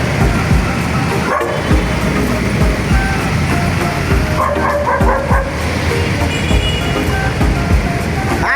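A dog barks and yips repeatedly outdoors, fairly close, over a dense, noisy background that runs through the whole stretch.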